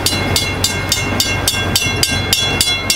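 Gatorland Express park train running steadily, with rhythmic wheel clicks roughly every quarter second over a continuous low rumble, close and fairly loud with no talking.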